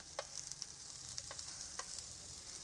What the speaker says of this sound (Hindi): अब जो हमने शिमला मिर्च बारीक कटी हुई थी वो भी डाल लेना है और अब हमने इसे 1 मिनट तक फ्राई करके